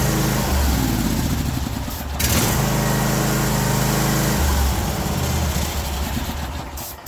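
A small Cub Cadet 1050 Hydro garden tractor engine runs loudly and continuously, chugging with a rough, uneven idle, briefly dropping then picking up again.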